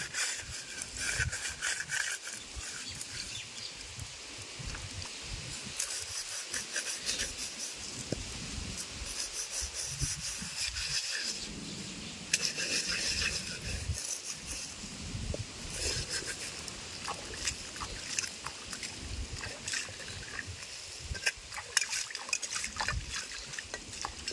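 A cooking pot is scrubbed with sand and water outdoors, giving continuous gritty rubbing and scraping with trickling, splashing water, close up and steady throughout.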